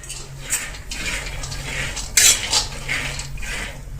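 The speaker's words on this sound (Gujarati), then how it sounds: "કઢાઈમાં માંડવીના દાણા નાખી દેશું" Raw peanuts tipped into a dry wok over a gas flame for chikki, giving scattered light rattling and clinking against the metal with a few sharper bursts, close and moderately loud with a steady low hum underneath.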